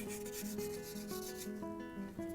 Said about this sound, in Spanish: Ya secado, pues se lija con una lijita.